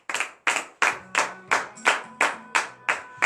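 A morning prayer congregation claps in a steady rhythm, nine or ten sharp, loud unison claps evenly spaced, each with a short ringing tail, and faint voices beneath.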